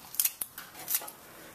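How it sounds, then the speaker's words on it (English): Small sharp hair-cutting scissors snip through collard, Swiss chard and kale greens in a quick run of crisp, close clicks, with no talking. "Just trim them right up with this little sharp little hair cutting scissors that I use"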